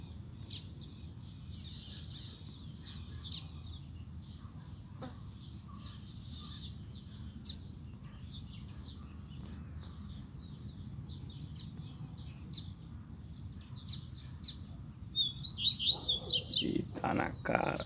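A caged double-collared seedeater sings repeated bright, chirping phrases up close, with other birds chirping faintly in the background, a steady low hum, and a louder burst of song near the end.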